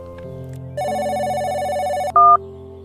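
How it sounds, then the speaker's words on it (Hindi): A phone rings through on an outgoing call, a steady electronic ringback tone heard close and clear, ending with a brief higher beep. "घंटी तो जा रही है।"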